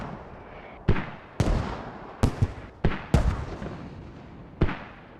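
Mortar rounds landing around Hem Farm in a military video game: several sharp, booming impacts spaced irregularly a second or so apart, each trailing off into a rumbling decay, moderately distant.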